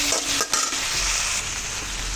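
Garlic added to browning onions in a hot pan gives a loud, close, steady sizzle with a short stirring scrape near the start.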